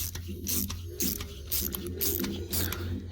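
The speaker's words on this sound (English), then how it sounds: "I'm just retapping these right now" A hand tap retaps bolt threads on a 2003 Tiburon engine, making close, repeated ratcheting clicks and metallic scrapes in short turns of about half a second, with brief pauses between strokes.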